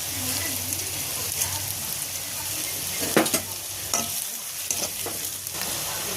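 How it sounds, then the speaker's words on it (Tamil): Salted ingredients for a paneer gravy sauté in a pan with a continuous close sizzle, interrupted by a handful of sharp scraping stirs that come in uneven bursts. "கொஞ்சம் உப்பு போட்டு வதக்கிக்கலாம்"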